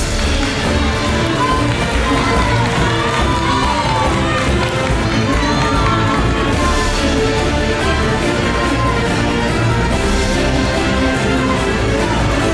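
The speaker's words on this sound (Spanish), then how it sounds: "El aplauso fuerte para ambos" Loud, sustained applause and cheering from a studio audience for both finalists at the grand final of a televised talent show, a dense steady roar with music underneath throughout.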